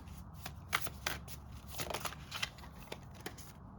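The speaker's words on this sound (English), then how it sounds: "I'm also going to pull some self-care cards" Oracle self-care cards being shuffled by hand, a steady run of papery riffles and soft slaps close by, with no talking.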